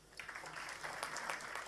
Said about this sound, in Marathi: त्यांच्यासाठी हे टाळ्या वाजवूया.